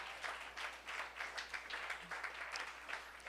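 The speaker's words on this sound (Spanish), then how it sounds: "Ponte de pie, Glorita, démosle un aplauso a mi esposa" Applause from a church gathering at a missionary talk as the audience honours the speaker's wife, a fairly faint, steady patter of many hands clapping throughout with no voices over it.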